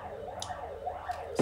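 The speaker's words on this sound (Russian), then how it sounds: "Скорая едет." A passing ambulance siren wails faintly in the distance, its pitch sweeping up and down in steady cycles against a quiet background.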